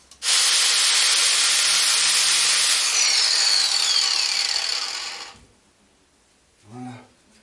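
A worn grinding disc grinds a Renault Clio 3 RS throttle body in a steady, loud, close hiss-like whine lasting about five seconds, then cuts off, followed by a faint brief clunk.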